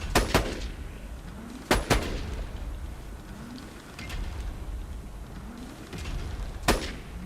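Vladoff corrosive sniper rifle firing in Borderlands 2, several sharp, loud cracks spaced a second or more apart, with quieter whooshing game effects between them.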